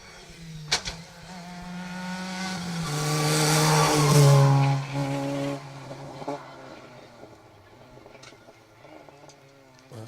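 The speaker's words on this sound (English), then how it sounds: "There was obviously a big bang from the car hitting the road" A rally car revs up and roars past at close range during a rally stage, swelling loud mid-clip before fading; a sharp knock early on is the car hitting the road, and engine noise lingers afterward.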